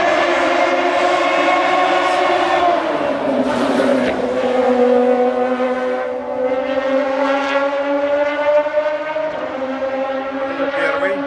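A leading Formula Radical race car roars past at Abu Dhabi, its loud high-revving engine falling in pitch as it goes by, then droning on steadily into the distance.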